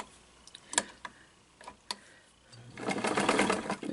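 A sewing machine stitching a zigzag on an Easter wreath project, first a few scattered ticks and clicks, then a close steady mechanical whirring run of stitches building in the second half.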